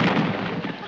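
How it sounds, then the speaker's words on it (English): A gunshot sound effect in an old radio comedy, a loud broadband blast that fades into a rumbling tail over about a second, heard alone without talk. "That was a gunshot."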